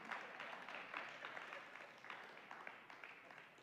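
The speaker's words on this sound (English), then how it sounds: "Everybody, give Joel a round of applause." A church congregation gives a round of applause for Joel: steady, many-handed clapping that sounds faint and distant throughout and tapers slightly toward the end.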